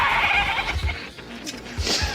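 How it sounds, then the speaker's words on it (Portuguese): Several talkative goats bleat in a busy, overlapping chorus, with loud nasal cries rising and falling close by over a steady low background. "Cabras muito falantes."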